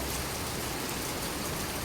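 Steady rain in Slovenia hisses as a dense, even wash of drops on surfaces, close and uninterrupted, with no voices.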